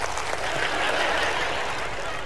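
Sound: comedy show audience applauding

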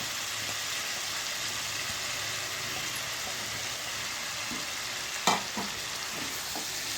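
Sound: potatoes and cauliflower stirred and frying in a pan

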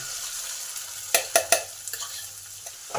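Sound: stirring bean paste frying in a kadai

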